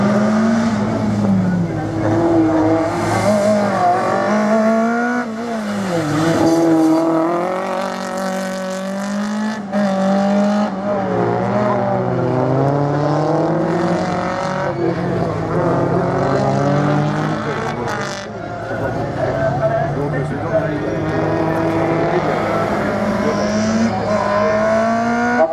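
A rally slalom car at the Lessay slalom is driven hard on the track, its loud engine climbing and dropping in pitch through repeated gear changes and hard revs, with a commentator talking over it throughout.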